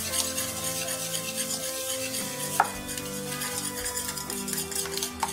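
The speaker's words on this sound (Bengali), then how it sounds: "এখন ডিমের সাথে চিনিটাকে ভালোভাবে মিশিয়ে নিতে হবে যেন চিনির কোনো দানা না থাকে" Eggs and sugar are whisked together in a bowl for an atta cake batter, a steady close scraping and swishing rhythm with no voices.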